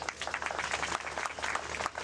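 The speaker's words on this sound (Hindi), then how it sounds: "एक भाई ने कमर्शियल बेचा हुआ, वो ताली बजा रहा है, बाकी तो खामोश बैठे हुए" Applause at a birthday party, with several quick hand claps in a steady patter at moderate distance and some crowd murmur behind it.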